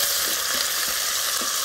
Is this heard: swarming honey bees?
no